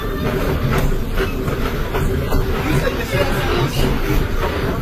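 A train runs along a Canada train line with a steady rumbling, clattering ride noise and faint rhythmic clicks, under background chatter from passengers.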